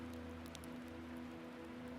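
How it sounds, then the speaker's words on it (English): Soft rain falls at night onto a lake, a faint steady patter over a low hum, with scattered gentle drop ticks and no voices. "Outside, the rain continues to fall softly"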